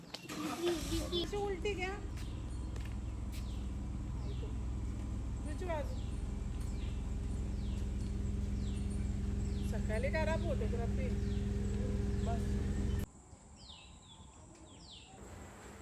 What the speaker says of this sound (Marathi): पहा पक्ष्यांचे किती मस्त आवाज येत आहेत.